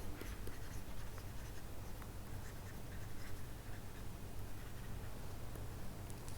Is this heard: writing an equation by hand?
yes